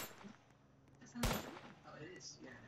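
A single sharp gunshot bursts out loud near the middle of a Roblox ERLC police roleplay scene, with voices talking over the game sounds before and after it.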